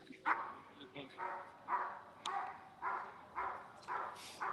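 A hunting dog on a raccoon hunt barks repeatedly at a steady rhythm, about eight loud bawling barks spaced roughly half a second apart, heard from some distance outdoors.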